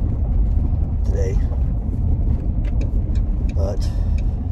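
Inside a moving van, a steady low road rumble and wind noise fill the cabin while someone talks close to the mic in short bursts.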